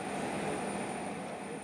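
A commercial airliner lands at Atar airport in the Mauritanian desert, a steady broad engine roar that holds loud and constant, with no voices over it.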